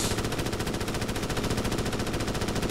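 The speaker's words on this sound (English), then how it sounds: "someone's constantly shooting on my game" Rapid, continuous automatic gunfire from a video game, evenly spaced and steady for the whole stretch, fairly quiet and heard alone without talk.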